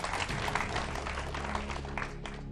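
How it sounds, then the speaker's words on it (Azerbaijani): Studio audience of a team quiz show applauding both teams, a dense, steady burst of clapping from many hands, loud and close throughout. "Alqışlayaq hər iki komandanı."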